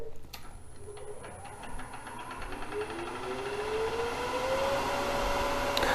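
A wood lathe turning a basic bowl speeds up to 1,000 RPM, its whine rising steadily in pitch over several seconds and growing louder, steady and close with no talking.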